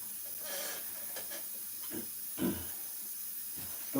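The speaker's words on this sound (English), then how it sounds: "spray water through the airbrush again." An airbrush sprays water over a model Class 31 locomotive during weathering, giving a faint, breathy hiss that comes in short, soft bursts.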